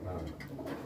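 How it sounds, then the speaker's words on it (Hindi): A large mixed-breed flock of about a hundred pigeons coos continuously at close range, dense overlapping throaty calls filling the space with no talk. "ये 100 कबूतर हैं, ये 100 के 100 बिक्री के हैं।"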